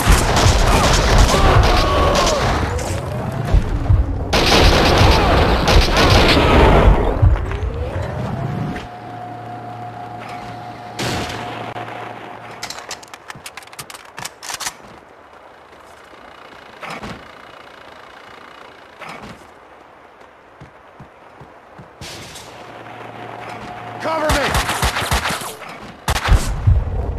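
Heavy gunfire from the video game Max Payne 2, dense bursts of loud shots and booming blasts in the opening seconds, then scattered sharp shots over a mechanical hum, with a renewed loud barrage near the end.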